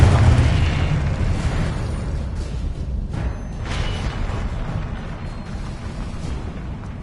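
A Confringo blasting spell in Hogwarts Legacy explodes as a loud, dense burst of rumbling blast noise, with the boom fading into a sustained low roar over several seconds.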